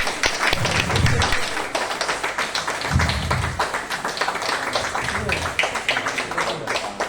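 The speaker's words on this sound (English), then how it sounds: "please help me welcome them and please unpack the product, the first oxygen in Kolkata. With a clap" An audience applauds together, a dense stretch of steady hand claps lasting several seconds, fairly close and even in loudness, with a few low thumps mixed in.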